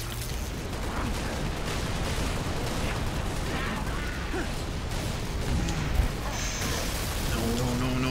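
Gunfire in Halo Reach's final Last Stand mission, fought against an endless horde: steady dense shooting and bursts layered with battle noise that runs without a break, and a sharper crash near the end.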